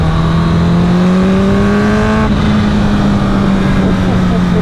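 A Kawasaki H2 supercharged motorcycle engine pulls hard with a loud, steady rising drone and a quick shift midway, heavy wind rumble beneath, recorded close on the road.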